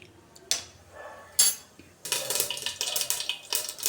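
Mustard seeds crackle and pop in a spoonful of hot oil in a home kitchen while sprouted bean sambar is being made; a few sharp bursts come first, then a dense, continuous spatter of close, bright pops.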